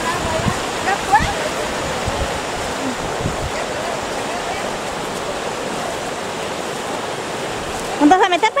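A swift, full-flowing river rushes nearby, making a steady, loud wash of water noise that fills the whole stretch without letting up.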